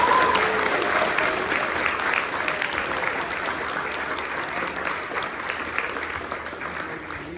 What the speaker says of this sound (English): Can we have one more round of applause, please, for our candidates?